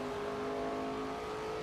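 Race car engine in NASCAR 25, an Xfinity Series race at Sonoma, holding a steady, loud droning whine as the car powers past a rival, with no voices.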